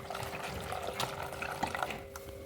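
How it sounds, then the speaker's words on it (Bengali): Carrots and potatoes being washed in water in a kitchen, a steady splashing and trickling wash with small clinks and drips, close and moderately quiet, no talking. "এর মধ্যে জল দিয়ে ভালো করে এগুলোকে ধুয়ে নেওয়া হবে"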